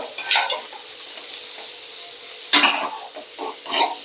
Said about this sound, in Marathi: जे आपले हे काजू आहेत ना ते फ्राय करून घ्यायचे छान हे परतून घ्यायचे